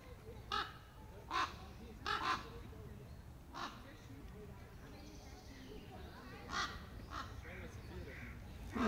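A bird gives several harsh, crow-like caws at irregular intervals in a quiet setting, with faint murmurs of people in between.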